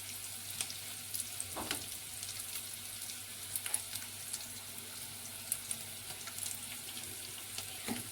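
Curry leaves frying in hot oil for a okra masala gravy: a faint, continuous crackling sizzle with scattered small pops, heard alone and at a distance.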